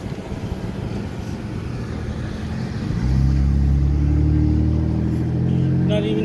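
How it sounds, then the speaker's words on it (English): A car driving along a city sidewalk, its engine rising from a low rumble to a louder, nearer roar partway through as it passes, over outdoor street background. "Look at this guy driving on the sidewalk."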